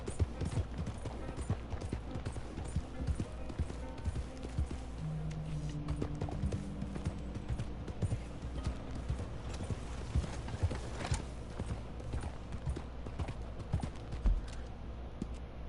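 Horse hooves in a video game clip-clop in a steady, rhythmic trot throughout, fairly quiet, with a faint background hum.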